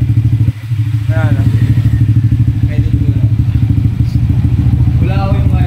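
Honda Click scooter fitted with a Kenochi aftermarket exhaust pipe idling close up, a loud steady low putter with a brief dip early on, while people talk over it.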